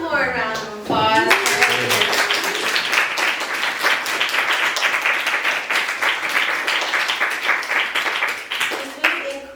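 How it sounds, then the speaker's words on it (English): Audience applause after a voice-only performance at a small studio venue, a sustained round of dense clapping that swells in after a voice and runs for several seconds before fading as speech returns. "let's give one more round of applause"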